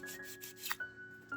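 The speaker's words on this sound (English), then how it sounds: "that involves sanding" Short strokes of sandpaper rub across the surface of a model car being prepared for gluing, close and faint, a few brief scrapes with quiet gaps between.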